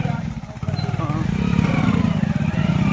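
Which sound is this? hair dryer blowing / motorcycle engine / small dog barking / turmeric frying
motorcycle engine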